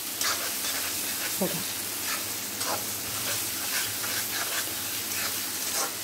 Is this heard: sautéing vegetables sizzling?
yes